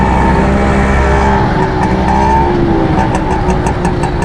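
Car engines hum and rev in a traffic jam on a rainy road, loud and close, with a constant roadway rumble and some faint higher clicks toward the end. No voices.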